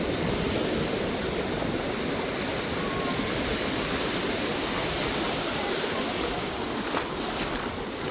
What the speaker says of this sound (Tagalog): Malakas lang talaga yung alon.